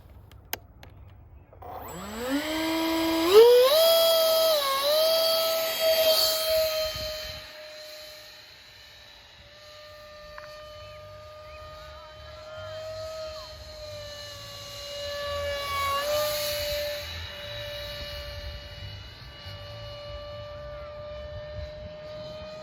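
Electric ducted fan FB-28 model jet flying over a field, a high whining turbine-like tone that rises sharply at launch, then sweeps up and down in pitch as it passes near and away.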